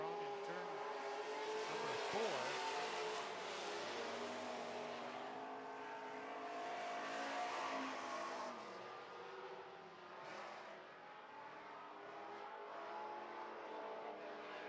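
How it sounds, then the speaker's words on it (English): Super stock cars racing on an oval track, one with a Dodge-powered Gator chassis, engines roaring in a steady dense wash with rising and falling revs as cars pass, heard from a distance. "Scott Brown looking to close in that Dodge-powered Gator chassis"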